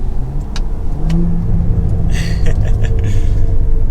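A 2022 Cadillac CT4-V Blackwing engine growls and revs loudly up close, a deep steady rumble with rising surges of throttle, stock exhaust.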